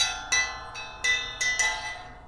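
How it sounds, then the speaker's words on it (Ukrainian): Small metal bell of the kind hung on an elephant, a vintage find, struck about five times in an uneven rhythm, each bright ring decaying quickly into the next, close and clear with no talk. "Дзвоник ось такий, це вішається на слона."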